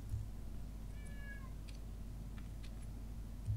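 A cat meows in the Minecraft video game, a short rising mew near the middle heard over a steady low hum, with faint clicks around it.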